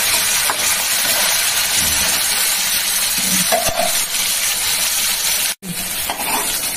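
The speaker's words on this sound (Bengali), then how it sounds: "ব্রাউন করে ভেজে নিচ্ছি" Pieces of rohu fish fry in hot oil with a loud, steady sizzle and crackle throughout, occasional soft clinks and scrapes of a utensil, and a brief dropout near the end.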